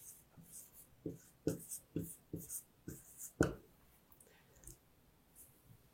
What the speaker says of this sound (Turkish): Kalem ile yazalım.